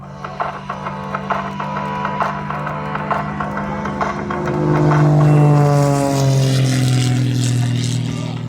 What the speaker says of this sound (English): The monoplane he is flying today is a Rebel 300.